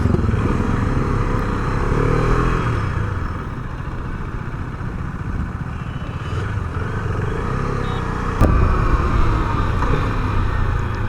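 Steady engine drone from a Husqvarna Vitpilen 250 BS6 café racer motorcycle under way, a continuous loud rumble mixed with wind noise that stays even throughout, with no voices.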